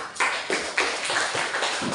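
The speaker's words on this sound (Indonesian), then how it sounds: "Terima kasih. Tepuk tangan." Students in an Indonesian school classroom clap together in short rhythmic bursts, several sharp group claps in a row at moderate loudness with no talking over them.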